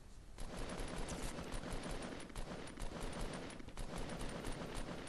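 Rapid bursts of gunfire in the mobile version of Fortnite crowd together into a dense, continuous volley, loud and close, with no talking over it.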